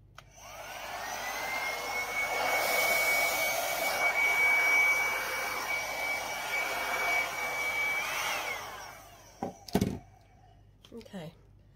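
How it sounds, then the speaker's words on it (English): A small mini hairdryer blows across acrylic paint in a Dutch pour, giving off a close, steady whirring whine for about nine seconds before cutting off, followed by a few sharp knocks and clicks. "get out my little mini hairdryer"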